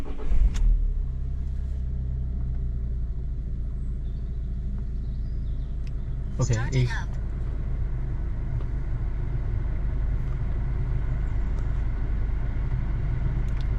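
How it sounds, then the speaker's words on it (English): An Alfa Romeo Giulietta engine cranks briefly and catches, then settles into a steady low idle rumble, with a short burst of clatter midway and a brief spoken word at the start. "let's see if the car start."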